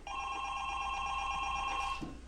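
A telephone bell rings steadily and loudly for about two seconds backstage at a spelling bee, a single continuous electronic trill that stops abruptly near the end.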